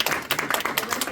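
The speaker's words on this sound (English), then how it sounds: "Could you applaud if you want to hear from people?" An audience at a school board meeting claps in a brief, dense burst of overlapping hand claps, close and steady for about a second.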